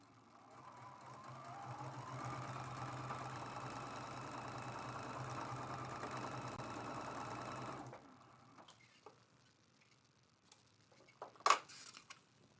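A sewing machine runs steadily for about eight seconds stitching a quilt seam for a mug rug, its whirring hum close and even, then stops, leaving a few faint clicks and handling noises.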